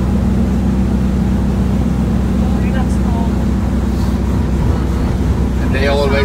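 A motorboat rumbles past on open water with a constant low engine drone, heavily buffeted by wind noise, while voices are heard nearby.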